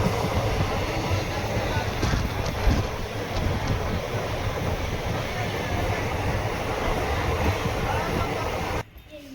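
A train rolls across the Pamban railway bridge near Rameswaram, a steady broad rumble with wind buffeting the microphone over the sea, holding level for several seconds before cutting off abruptly near the end.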